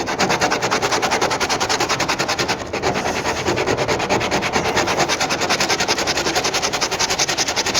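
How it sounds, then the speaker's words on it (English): Sandpaper rubbed back and forth across the edges of a repaired crack in an HDPE plastic Sun Dolphin kayak, a steady loud scratchy rasp running continuously with a brief dip midway. "you can come back and smooth down the edges with some sandpaper"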